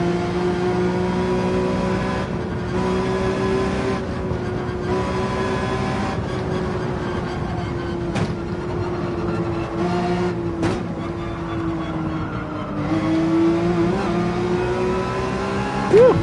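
Race car engine in Gran Turismo 7 holding a steady high drone as it pulls through second gear, with small pitch shifts at gear changes and a brief rise near the end, loud and continuous.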